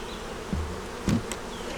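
Honeybees festooning on foundation at a hive give off a low, continuous buzzing drone, with a couple of faint knocks or bumps from handling, no voices.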